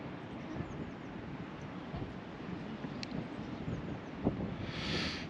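Gusty wind buffets the microphone outdoors on a walk, a continuous low rumbling roar that swells slightly toward the end, with no talking.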